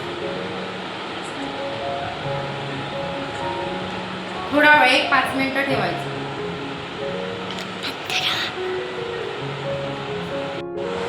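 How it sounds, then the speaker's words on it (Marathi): An overhead electric fan runs steadily in a home kitchen where sliced potatoes are drying for french fries, giving a constant airy whoosh beneath a woman's speech, with a few brief clinks along the way. "वरती फॅन सुद्धा चालू आहे"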